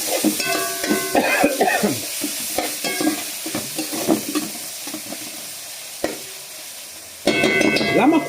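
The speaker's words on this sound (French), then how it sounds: "Je rajoute mon tomate. Un petit peu de piment." Tomato and chili sizzling and being stirred in a hot pan for a fish massalé. Loud, close frying runs throughout, with scraping stir strokes and a louder burst of sizzle near the end.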